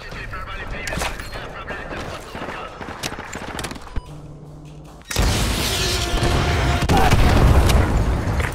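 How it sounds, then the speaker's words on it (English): Heavy AGM missile strikes in Call of Duty Modern Warfare 2, a rumble of booms and scattered gunfire that swells into a loud, sustained roar of blasts after a brief lull. "AGM missiles online."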